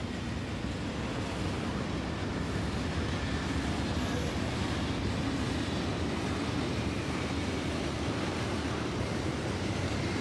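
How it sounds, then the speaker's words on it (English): Trains in the Factorio video game, heard as a steady, dense rumble with no clear breaks, loud and unchanging throughout. "at least we know the trains partially work"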